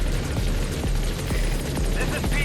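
Support helicopter arriving at a landing zone in Metal Gear Solid V on Xbox Series X, a loud continuous rotor thump and engine drone close by, with game voices over it.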